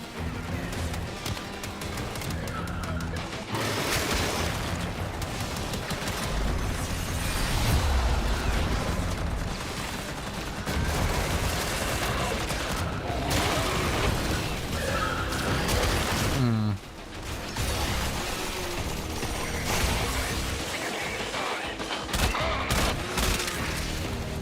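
Primary-weapon gunfire in Warframe, dense rapid volleys of shots crackling almost continuously over a loud game mix, with brief lulls and one sharp break partway through.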